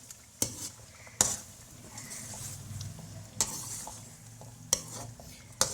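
Aloo matar chicken being stirred and fried in a pan, with a soft steady sizzle and several sharp metal spoon clanks against the pan spaced a second or two apart, fairly quiet and close with no talking.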